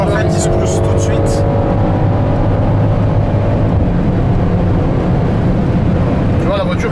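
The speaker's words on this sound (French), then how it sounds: "la voiture est saine parce qu'on est à 220" Car cruising at about 220 km/h, a loud continuous roar of engine, tyres and wind close inside the cabin, with someone talking over it.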